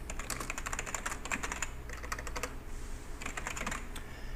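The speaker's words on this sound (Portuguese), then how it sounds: "Vou digitar alguma coisa aqui só para a gente ter algum conteúdo." Rapid typing on a computer keyboard while writing in a Word document, bursts of close key clicks with short pauses between runs.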